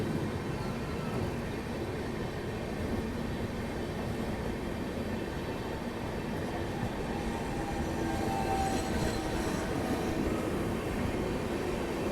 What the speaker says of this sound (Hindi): पर इसमें डीजल इंजन जो है वो लगा हुआ है